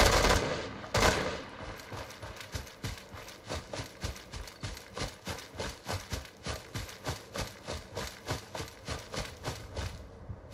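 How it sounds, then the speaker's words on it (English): Rapid gunfire in Fallout 4, a steady rhythmic string of near, sharp shots at about three per second after a couple of heavier opening blasts, continuing for around ten seconds. "Opening fire."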